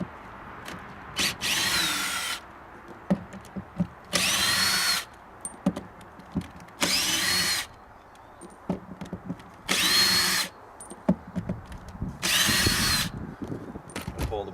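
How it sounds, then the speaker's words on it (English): A power drill removes the screws from a vehicle seat base in five loud whirring bursts of about a second each. Small clicks and handling noises fill the gaps between them. "I'm just going to simply remove the screws."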